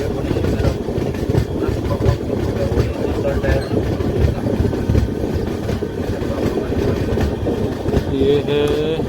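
The MGR Chennai Central–Ahmedabad train rolls past on the rails near Bhusawal Junction, a continuous close rumble with rhythmic clickety-clack of wheels and brief squeals, steady throughout with a voice faintly mixed in.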